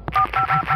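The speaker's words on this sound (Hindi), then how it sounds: "हमारा डायल पैड साउंड ऑन हो चुका है।" Key tones from the dial pad of an Oppo A77 phone, with a few short, loud electronic beeps in quick succession right up close.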